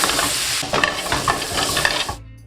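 Garlic sizzling in melted butter in a pan, a steady loud frying hiss with stirring scrapes through the middle, then cutting off abruptly near the end.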